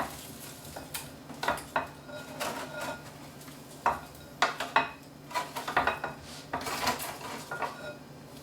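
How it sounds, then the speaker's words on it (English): A metal spatula scrapes and clatters against a pan as holiday food is loosened, giving quick irregular scrapes and knocks close by, with no voices. "You can just take the back of a spatula, just make sure they're not stuck."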